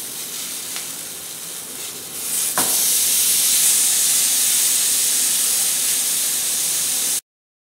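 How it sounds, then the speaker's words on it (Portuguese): A hamburger patty sizzles in butter in a frying pan. A soft hiss swells into a loud, steady sizzle once it is turned, then cuts off abruptly. "Vamos virar o hambúrguer."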